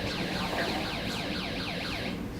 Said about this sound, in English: we can hear the alarms